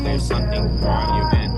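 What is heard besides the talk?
crickets chirping in a song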